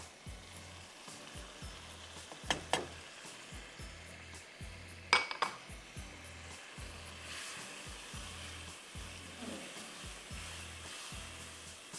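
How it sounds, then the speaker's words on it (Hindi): Pav bhaji mixture of tomato and pav bhaji masala frying in a pan, a steady close sizzle running throughout with a few sharp clinks of a spoon against the pan, and a low-pitched hum in the background. "अच्छी तरह जब तक ये यहाँ पे भून रहा है"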